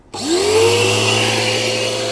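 An Okaoda RUILI-02 machine, apparently a pressure washer, switches on abruptly and spins up to a loud, steady motor hum with a rising whine that then holds constant.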